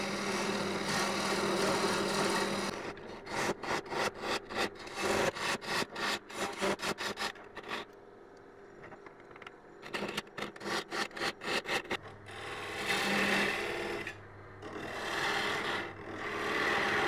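A woodturning tool hollows an Afromosia wooden bowl on a lathe, producing loud continuous rasping cuts broken by bursts of rapid repeated scraping strokes and brief pauses, close and without any talking.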